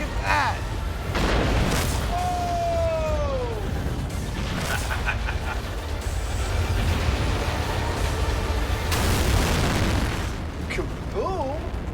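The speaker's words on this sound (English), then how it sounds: "Kaboom!" A big explosion booms and rumbles continuously with a loud, dense roar that surges again later, while excited voices shout and talk over it.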